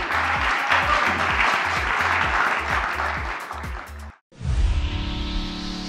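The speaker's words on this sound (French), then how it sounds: "S'il vous plaît, ma pande, nous applaudissons, s'il vous plaît." Audience applause at a youth talent contest semi-final, sustained clapping from a crowd that drops out briefly near the end before another sound takes over.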